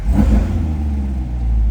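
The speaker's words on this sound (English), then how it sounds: "give it a couple revs for you" A 2021 Chevrolet Corvette C8 Z51 engine gives a short rev, a brief rising roar that settles into a low rumbling idle, close by.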